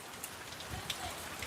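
Steady rain falling outside a bunker, a dense even patter of drops on surfaces, moderately close and continuous, with no voices.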